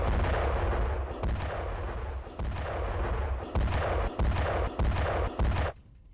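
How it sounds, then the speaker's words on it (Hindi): Russian Grad multiple rocket launcher firing on Ukrainian positions: a continuous, loud roar of successive launches with sharp repeated bursts layered over deep rumble, sustained for several seconds before cutting off abruptly. "रूस की सेना ने ग्रैड MLRS से फायरिंग की है।"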